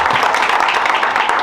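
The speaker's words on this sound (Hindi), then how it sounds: "इस बात के लिए मिलिंद जी की ताली बजनी चाहिए।" Seminar audience at a trading event in Nagpur breaking into applause, a dense burst of many hands clapping at once, loud and steady for a moment with no talk over it.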